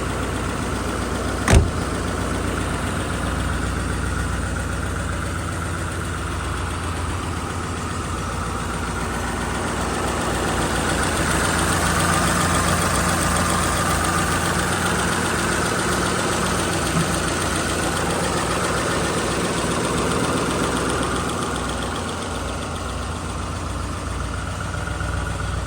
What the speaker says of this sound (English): I'll idle it down just a little bit.